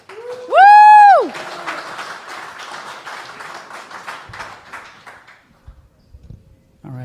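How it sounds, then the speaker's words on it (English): A loud, high whooping cheer opens, then an audience at a tech talk bursts into dense applause for a speaker, the clapping tapering off over several seconds before a brief voice near the end. "a round of applause for Dave"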